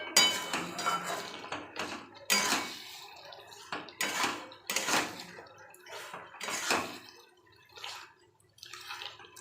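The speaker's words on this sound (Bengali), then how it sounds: "আমি এইভাবে নেড়ে চেড়ে মাংসটা খুব ভালো করে কষিয়ে নেব।" Chicken meat is stirred and fried in a pot, a quiet, uneven series of metallic scrapes and clinks coming in short bursts with gaps between.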